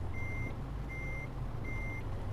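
A Mercedes Actros truck in Euro Truck Simulator 2 backs under a trailer, three evenly spaced reversing beeps sounding clearly over a low steady engine rumble, no talking.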